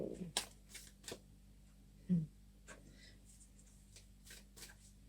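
A deck of tarot cards being handled and shuffled up close in a quiet room, with scattered soft riffles and flicks and one brief thump. A few quiet words are spoken.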